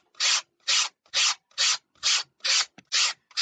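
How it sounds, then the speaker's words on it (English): A 120-grit sandpaper block is drawn lightly back and forth over a model plane wing. Eight even, close rasping strokes come at a steady rhythm with short gaps between them and no talk. "And you're going to take the wing and you're just going to lightly sand."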